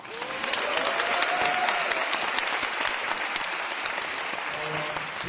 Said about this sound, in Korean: 출판사와 저자들에게 여러분 박수 한번 부탁드립니다